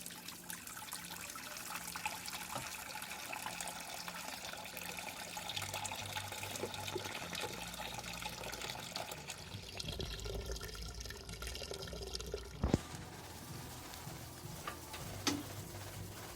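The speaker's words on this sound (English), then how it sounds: "we're going to drain off our sparge water into this container here" Sparge water drains from a Brewzilla brewing system into a container, a steady trickle and dribble running continuously for many seconds with faint ticking drips and a few clunks, no talking.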